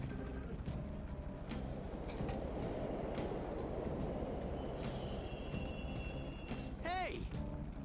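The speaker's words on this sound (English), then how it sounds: "The trains are totally running." Subway trains rumble steadily through a station in the video game Persona 5, a dense continuous low roar with wheel squeals rising near the end, heard alongside faint game voices.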